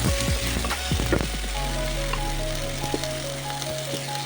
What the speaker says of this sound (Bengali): ফুলকপি আলুটাও ভালোভাবে ভাজা হয়ে গেছে